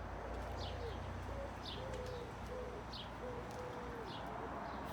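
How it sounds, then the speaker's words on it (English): Starlings calling in a garden: faint, repeated short downward-sweeping chirps and whistled notes, spaced about a second apart over a soft steady background hum, with no talking. "That's the starlings again. They're coming through."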